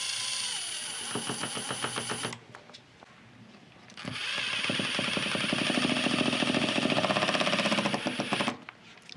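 A power driver sets stainless oval head screws into a truck bed rail, with two bursts of rapid whirring and ratcheting separated by a short pause, close and fairly loud with no talking.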